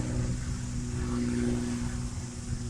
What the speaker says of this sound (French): Pour attendre que l'avion il passe.